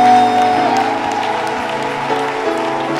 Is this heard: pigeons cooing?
no